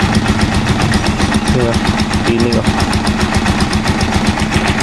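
A motorcycle tricycle engine idles steadily with an even, close putter throughout, and someone talks over it.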